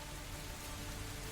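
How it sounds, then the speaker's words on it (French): Rain falling in dwarven mines as role-play session ambience, a soft, steady hiss of drops continuing evenly throughout with no voices. "Pouvez-vous m'expliquer pourquoi il pleut dans les mines naines?"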